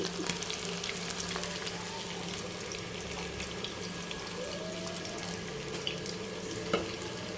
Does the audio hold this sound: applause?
no